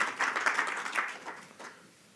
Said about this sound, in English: So a warm round of applause, everyone, for Dr. Frans Cronje